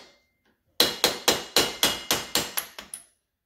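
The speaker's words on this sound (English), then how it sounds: "So I'm just using a hammer" A hammer strikes front brake parts on a Honda Foreman Rubicon ATV during a brake replacement, giving about ten sharp metallic blows in a quick, even rhythm that tapers toward the end after a short quiet start.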